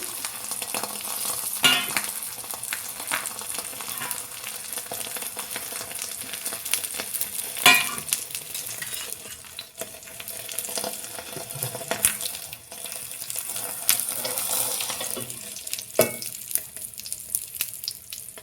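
A parota fries in oil in a pan with a steady, close hiss of sizzling, broken by a few soft knocks and clatters of a utensil against the pan.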